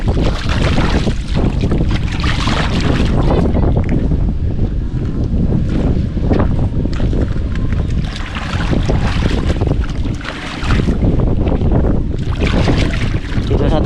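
Fishing boats struggle to dock on choppy water in strong wind, heard as a constant loud roar of wind buffeting the microphone with surging waves beneath, and no clear speech.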